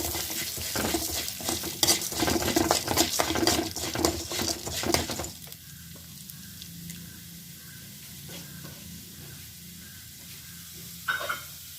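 Urad dal fries in a pan with bursts of crackling and scraping stirs for about five seconds. It then settles into a quiet sizzle with a few faint clicks, close by and with no talking.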